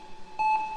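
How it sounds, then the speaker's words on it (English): Heart monitor beeping beside a bandaged patient: a single clear electronic tone sounds partway through the brief moment over a faint low background. "Could hear the beeps just over all the flies."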